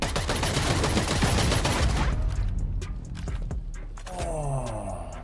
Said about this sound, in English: Did he have a shotgun? It sounded like one.